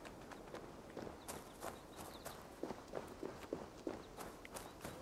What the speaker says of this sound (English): Do you hear a horse?